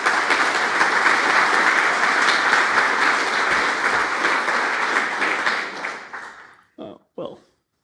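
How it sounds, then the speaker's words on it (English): Conference audience applauding a speaker after his introduction, sustained dense clapping for about six seconds that fades out, followed by a few brief words from a nearby voice. "Give a round of applause for Dave."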